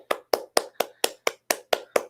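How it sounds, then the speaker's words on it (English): Nine sharp hand claps in an even, quick rhythm, close and clear, applauding a trivia game player. "a hand clap."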